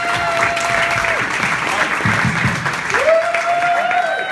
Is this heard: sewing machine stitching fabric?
no